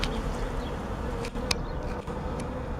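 A dense, steady buzz of many honey bees in an opened hive box holding young capped brood and larvae, close and continuous throughout, with no voices.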